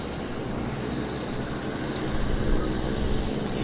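A Saab 340 in Pacific Coastal and WestJet colors rolls along a runway at Vancouver Airport, giving a steady, broad roar of turboprop engines at moderate distance that swells slightly toward the end.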